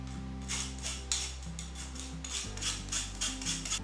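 Powdered sugar and baking powder rubbed through a sieve for an apple pie, a soft repeated scraping and rasping in short strokes, close by, with a low steady hum beneath.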